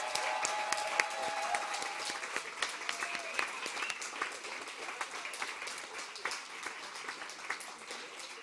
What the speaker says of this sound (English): let's give it a last round of applause for everyone involved in making this what it was